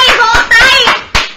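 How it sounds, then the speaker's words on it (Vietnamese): Hand clapping close by, a few sharp, loud claps spaced irregularly, with tonal sound ringing between them. "Vỗ tay"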